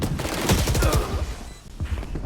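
SMG fire in a close-range video game gunfight, rapid bursts of shots crackling together in dense volleys, loud and near, easing briefly before more shots resume.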